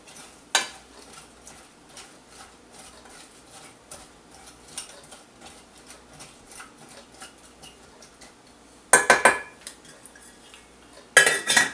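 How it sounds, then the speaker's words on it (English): A spoon clinks and scrapes against a pot while soup with a spice mixture is stirred, light taps throughout, with a few louder metallic clatters near the end. "I'll just give that a little stir."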